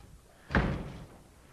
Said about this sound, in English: He slams the door.